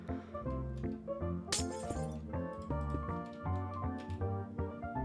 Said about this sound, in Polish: No po co to szkło niszczysz, gościu?